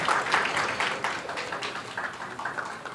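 Applause from the audience at a Navratri festival stage event in Borivali, a steady wash of many hands clapping at moderate loudness, with no talk over it.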